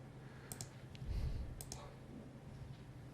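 A computer mouse double-clicked to launch an installer on a Windows computer, two quick paired clicks heard twice over a low background hum, close and faint.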